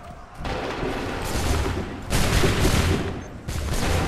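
Musket volleys boom out on an Assassin's Creed 3 battlefield, several loud rolling bursts of massed fire in sequence with a dense crackling wash between them.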